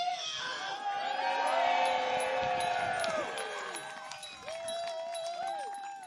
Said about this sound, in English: give yourselves one absolutely huge cheer!